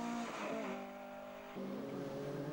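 A rally car on a forest stage of the 2005 Longcross Rally, its engine note held steady then dropping and picking up again with a gear change, moderately distant and unbroken by talk.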